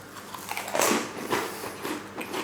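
Crunchy bread and butter pudding with marmalade being bitten and chewed close up, a few crisp crunching bites spread over a couple of seconds, with no talking.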